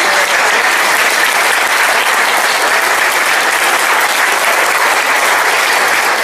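A crowd at a Chilean Communist party gathering applauds loudly and steadily, a dense, even wash of clapping that holds without pause and with no voices above it.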